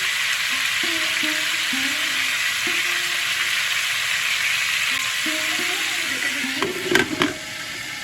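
Cauliflower florets frying uncovered in an open pan, a steady close sizzle throughout with faint tonal hums, then a few sharp utensil clinks and scrapes near the end.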